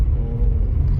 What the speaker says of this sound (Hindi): इतना बड़ा ट्राला लेके चल रहा है वो।